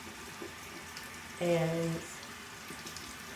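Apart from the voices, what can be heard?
hot water running from a tap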